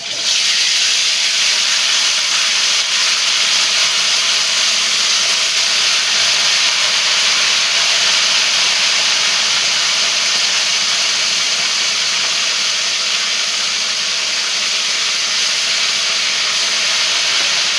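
Pieces frying for curry in a pan make a loud, continuous, close sizzling hiss that holds evenly throughout.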